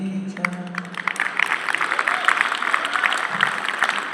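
Crowd applause at a university event for a Bollywood actor-singer, a dense patter of clapping that builds after a short burst of tonal music and continues steadily.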